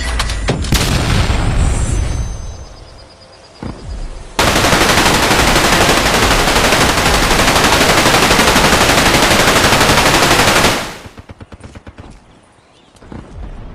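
Dense machine-gun fire and a heavy storm of gunshots rake a beach in a war-film landing under German fire, loud and continuous at the centre, with quieter rumbling battle noise before and after.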